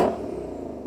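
A sports car engine in track mode revs loudly with exhaust blips at the start, then settles into a steady rumbling idle with a throaty exhaust tone.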